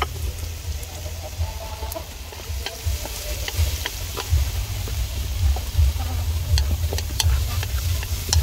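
Steady sizzling of frog meat stir-frying in a hot pan with lemongrass and chili, with scraping stir strokes and a low rumble throughout, no voices.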